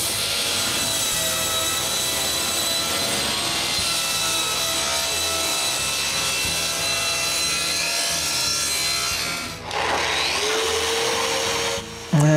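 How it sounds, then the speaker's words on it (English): A table saw with its blade tilted a little over 4 degrees rips angled strips from a wooden plank, a loud continuous high whine with gritty cutting noise, briefly easing and resuming near the end, close and without talk. "I tilt the table saw blade a little bit over 4 degrees and cut the 4"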